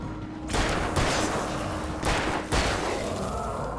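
Gunfire in the video game Alan Wake: several loud, booming shots spaced about a second apart, each with a long ringing tail over a steady noisy background.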